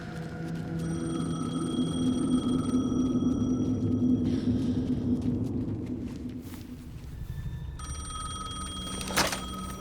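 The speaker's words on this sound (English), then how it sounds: "payphone was ringing." In the game Alan Wake 2, a payphone rings with sustained electronic tones over a low rumbling background. The tones stop, then a fresh ring starts near the end with a sharp clatter. No one talks.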